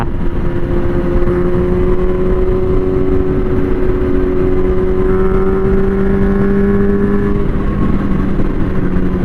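A Honda CB400 Four motorcycle engine runs loud and close, a steady droning idle whose pitch rises and shifts smoothly as the throttle is opened, continuous with no talk.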